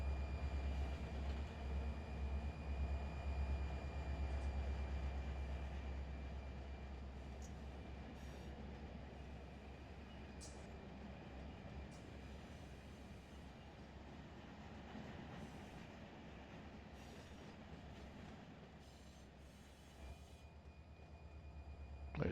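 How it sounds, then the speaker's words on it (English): A freight train rumbles steadily in Run8 Train Simulator V3, a heavy continuous roar with deep low-end throb that is loudest at first and eases slightly, with faint high squeals and clicks over it. "I got a train coming at me"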